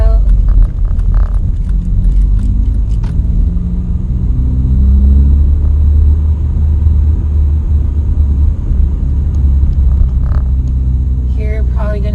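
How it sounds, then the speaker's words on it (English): Car engine rumbling loudly and steadily close by during a rev-match downshift from third into second gear on a street, a low drone throughout with a brief voice near the end. "Probably going to have to go down to second gear. Second gear. Rev it up, clutch out."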